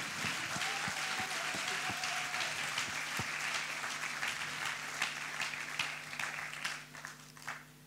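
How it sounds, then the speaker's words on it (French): A congregation in a church service applauds steadily, a dense, continuous wash of many hands clapping at moderate distance that thins slightly toward the end. "Dale un aplauso a Jesús."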